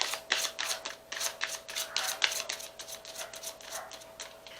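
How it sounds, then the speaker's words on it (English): Stiff tarot cards being shuffled by hand in repeated quick riffling bursts, a dense rhythmic flutter of crisp snaps close to the listener, with no voices. "So after 3 rounds of shuffling, if one doesn't jump out"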